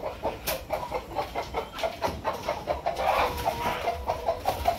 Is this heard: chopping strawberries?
no